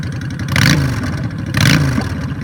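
A used 2005 Honda VT750 Shadow Aero V-twin cruiser motorcycle engine revs twice, each blip rising and falling against a steady loping idle, close and loud.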